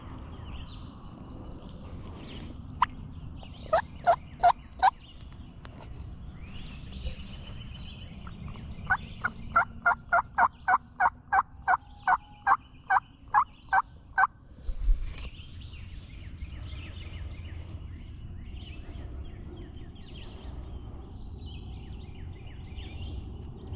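Wild turkeys gobble in a Georgia swamp, two distant bursts of rapid rattling gobbles, the second longer, amid faint ambient birdsong and outdoor background noise.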